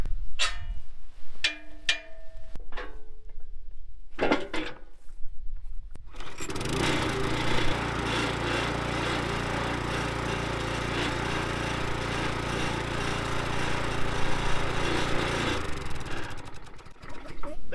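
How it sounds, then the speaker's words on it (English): A Huskee 22 ton log splitter's small engine, brought in after a few knocks and clanks, starts up and runs as a steady, loud, buzzing drone with a low hum underneath for about nine seconds, then cuts off. "we're going to see if the actual log splitter itself works"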